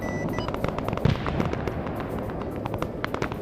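Gun run in the Vietnam War game Arma SOG Prairie Fire, with rapid, crackling bursts of gunfire popping irregularly over a rumbling background, moderately loud and distant-sounding, with no talk.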